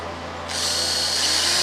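An electric drill fitted with a small hook spins to mix Cerakote paint inside a test tube; after a brief quiet start the motor kicks in close by and holds a steady, high whirring whine.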